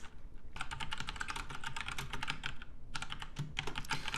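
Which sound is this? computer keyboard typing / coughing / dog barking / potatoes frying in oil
computer keyboard typing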